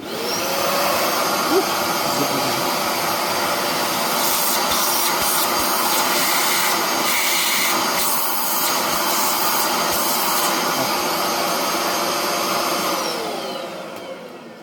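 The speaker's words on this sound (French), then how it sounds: "Déjà, bon, le Bicelle, beaucoup plus bruyant. Beaucoup plus d'aspiration forcément pour celui-là." A Bissell SpotClean Pro Advanced carpet cleaner runs with a loud, steady suction roar and whine from start to finish, tapering off in the last moment.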